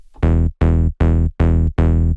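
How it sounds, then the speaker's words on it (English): A plucky synth bass plays five short, punchy notes in a steady rhythm, bright and buzzy with a quick decay, no other sounds. "often a plucky bass sound like this one."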